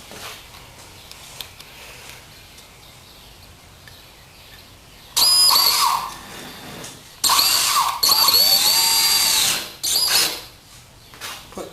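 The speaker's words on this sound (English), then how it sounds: "put two 3-inch deck screws in there" A power drill drives 3-inch deck screws into a 2x4 on plywood, two loud whirring bursts with a brief pause between and ratcheting near the end, after several seconds of quiet handling.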